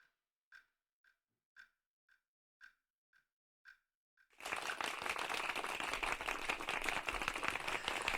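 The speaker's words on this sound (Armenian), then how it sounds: "Մեր եթերում ծափահարություններ են հնչում" Applause on a children's holiday morning music radio show breaks out suddenly and stays dense and steady after a run of sharp, evenly spaced ticking clicks.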